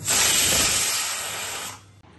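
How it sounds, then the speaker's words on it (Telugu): A pressure cooker of chickpeas boiled in salted water on a stove vents steam in a loud, steady hiss for about two seconds, then cuts off abruptly. "శనగలో కుక్కర్లో పెట్టాను కదండి, 3 విజిల్స్ వచ్చేసినాయి."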